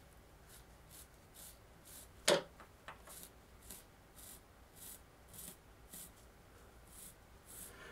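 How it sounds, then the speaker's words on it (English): A fine-tip marker draws gently on a speaker panel from a 1947 Westinghouse H-161 tube radio, giving soft, faint rhythmic scratching strokes with one sharper tap near the start. "I'll just be real gentle with a nice fine tip marker"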